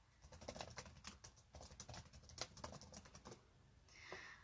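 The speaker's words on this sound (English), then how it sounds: "let me type something real quick" Rapid, uneven key taps from a computer keyboard clatter in close, steady bursts for about three seconds, then stop, leaving a faint soft rustle at the end.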